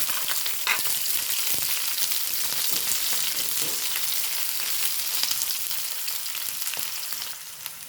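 Chopped onions fry steadily in a hot pan for okra thoran, a dense, even sizzle close by with a few faint stirring scrapes and no voices.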